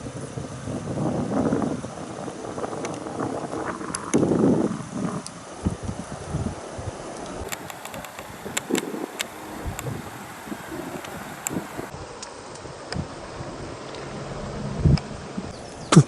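Gusty wind buffeting the microphone, with low rumbling bursts and scattered faint ticks and rustles throughout.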